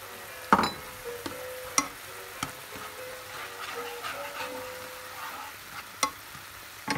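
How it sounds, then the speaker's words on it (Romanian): Shrimp frying and simmering with wine and broth in a pan, a soft steady sizzle broken by occasional sharp clinks and taps of a utensil against the pan. "Îi prăjim 2-3 minute, după care înăbușim cu restul de vin și oprim aragazul."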